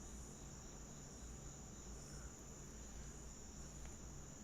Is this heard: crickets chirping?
yes